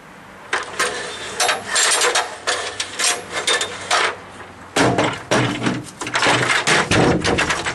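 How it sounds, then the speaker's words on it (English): Nails are hammered into a plywood deck roof at close range. Loud, quick blows come in clustered runs with a short pause midway, then a second dense run. "So temporarily I'm going to have to go up there and do a little bit of nailing."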